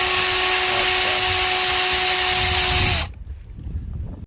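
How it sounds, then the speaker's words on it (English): A power drill bores through rusty metal on a Ford Transit Custom, whining steadily at a high pitch for about three seconds, then cuts off abruptly, leaving only low handling noise. "we're basically just going to drill straight through"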